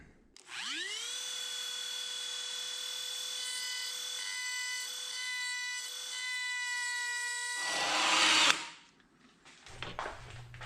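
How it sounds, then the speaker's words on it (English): A high-pitched Dremel rotary tool with a carbide cutter whines steadily as it cuts a Smart car seat track, a sustained buzzing tone with a grinding burst near the end before it winds down. "I just use a Dremel with a little carbide cutter"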